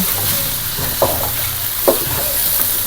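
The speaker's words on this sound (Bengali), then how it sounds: "সুন্দর করে একদম পোলার মতোই ভাজা হচ্ছে" Rice frying in a pan, pulao-style, a continuous loud sizzle with a few scraping stir strokes.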